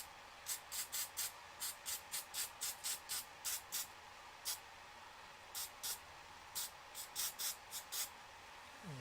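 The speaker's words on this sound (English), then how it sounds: "I want to spray this." An aerosol can sprays paint onto a miniature in many short, sharp hissing bursts in an irregular rhythm, close by against a faint background.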